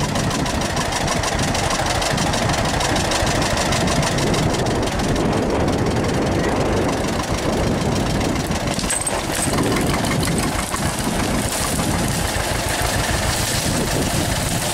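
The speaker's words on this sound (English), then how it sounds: "we got the tractor here, bush there, it's all chained up" A John Deere B tractor engine runs loud and steady throughout while pulling out chained brush, a continuous chugging mid-range rumble with no voices.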